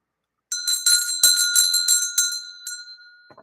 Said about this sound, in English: I'll ring the bell to be dramatic